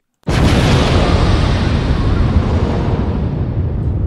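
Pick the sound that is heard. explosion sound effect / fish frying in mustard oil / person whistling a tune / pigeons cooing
explosion sound effect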